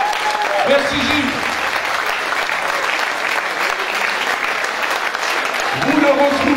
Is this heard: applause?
yes